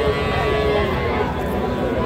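A young Sahiwal bull calf at a cattle market gives a single drawn-out moo, with faint market background around it.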